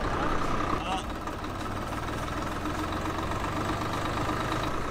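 A tractor engine running in a farm field, a steady low idling rumble with a knocking beat, with someone speaking over it.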